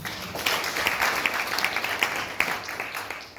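Applause from an audience at a memorial ceremony in Kenya, a brief burst of many hands clapping together at moderate distance, dense and fairly even, then fading at the end.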